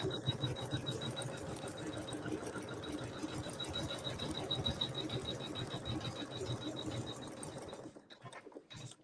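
An embroidery machine stitches a triple run line in a circle through vinyl, a steady rapid mechanical whirring and needle tapping that stays close and even, then stops abruptly near the end.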